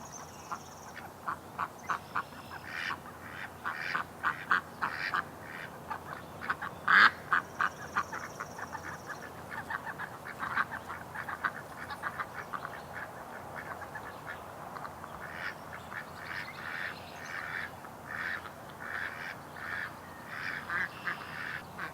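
Canada geese honk and ducks quack in a yard, a busy, fairly faint chorus of repeated calls at an outdoor distance.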